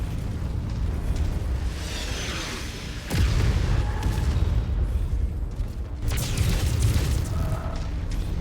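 Heavy tanks being destroyed in the MechWarrior 5 video game, with booming explosions bursting out loud at about three and six seconds over a steady rumble of battle noise.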